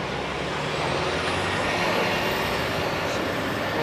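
City bus 97B pulling in on a North York street in Toronto, a steady engine rumble with a faint high hiss of air brakes, heard from nearby with no talking.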